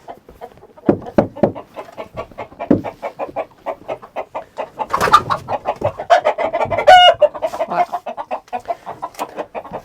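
Hens in the nesting boxes of a backyard coop cluck continuously in a busy, close chorus of short rhythmic calls, with a few louder squawks and a brief high cry among them.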